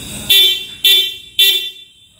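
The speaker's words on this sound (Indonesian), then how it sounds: "itu dia bunyi klakson standar dari Honda Brio" Three loud, short honks from the stock horn of a Honda Brio car, evenly spaced about half a second apart, each a bright, steady tone that cuts off cleanly.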